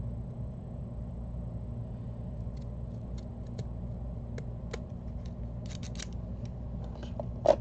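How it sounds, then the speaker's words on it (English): Scissors snipping through decorating material in a quiet indoor craft setting, a few short crisp cuts scattered over a steady low background hum, with one louder snip near the end. "I'm just going to bring my scissors back in"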